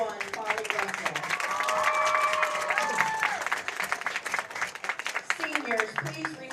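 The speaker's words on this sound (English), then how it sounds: "A round of applause for number 21, Polly Russell." Applause for number 21, Polly Russell, a senior at a Florida High girls' soccer game against Rickards. Scattered clapping and crowd noise build and then fade under a loudspeaker voice and other talk.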